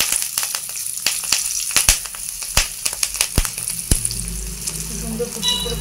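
Halved green chillies fry in hot oil in a home kitchen, crackling steadily with sharp pops scattered throughout. A faint stir and a low hum are heard near the end.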